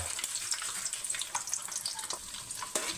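Chicken noodles sizzle and crackle in a hot pan, a lively close fry with small pops and occasional stirring scrapes throughout.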